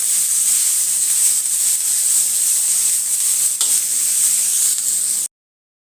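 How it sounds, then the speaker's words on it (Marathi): Masala sizzles steadily in hot oil in a pan for an egg masala gravy, a loud, continuous close hiss that holds evenly before cutting off abruptly near the end. "हा आपला मसाला लालसर होईपर्यंत भाजून घ्यायचा।"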